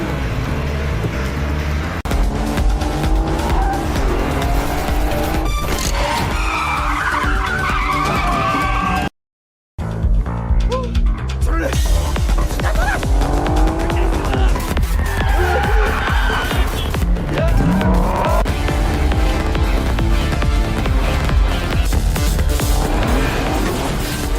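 Film car chase with tires squealing and skidding repeatedly over roaring engines, loud and continuous, broken by a brief silent cut midway before the screeching resumes.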